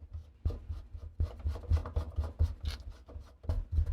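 A PVC P-trap piece for a kitchen sink is pushed and slid into place, a series of close rubbing, scraping plastic knocks in irregular bursts with no talk.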